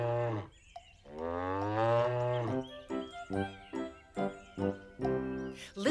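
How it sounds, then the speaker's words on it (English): A cow moos in several drawn-out, tonal calls, first long and then shorter repeated lows, close and clear. "We can hear the cow go moo."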